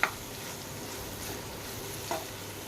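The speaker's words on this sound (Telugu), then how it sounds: "దీనైతే మిక్స్ చేద్దాం." Beetroot fry with turmeric and garlic being stirred in a hot pan, a continuous loud sizzle with a few scraping spoon strokes at the start and near the end, no voices.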